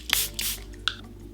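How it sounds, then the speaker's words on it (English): Makeup setting spray misting in two or three short, close pumps, each a soft airy hiss, with a faint click at the end. "Some setting spray for good measure."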